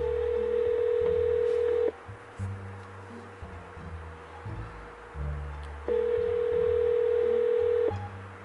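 Two long telephone ringback tones sound with a pause between them, over a low hum and some faint background sound.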